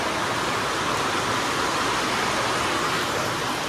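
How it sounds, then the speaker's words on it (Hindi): Heavy rain pouring down outdoors in a steady, dense hiss, loud and unbroken, with no voices over it. "देखिए बारिश कैसे हो रही है"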